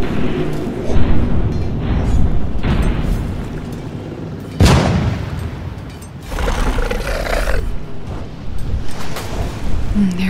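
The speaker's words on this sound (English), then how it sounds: "Get those cannons loaded." Ship cannons fire in a pirate audio drama, deep rumbling booms and a sharp blast midway over a continuous roaring battle background.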